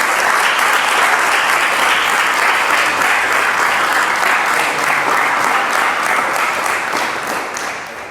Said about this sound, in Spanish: Ríndale fuertes palmas al Rey.